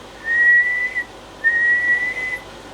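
Two sustained high whistles, each about a second long with a short gap between, sounded into a microphone while testing a D+A Maverick 250 amplifier, clear and alone.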